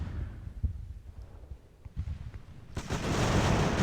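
Musket volleys crackle in a naval land battle in Ultimate Admiral: Age of Sail, rippling low pops building into a loud, dense roar of massed fire.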